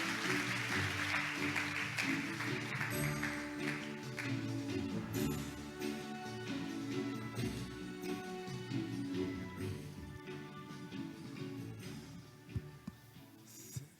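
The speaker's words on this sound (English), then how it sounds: "please welcome him with a big round of applause" A conference hall audience at the Seoul ODA International Conference applauds to welcome a keynote speaker, the clapping sustained and fairly soft over fourteen seconds, mixed with a musical fanfare with sustained tones running underneath.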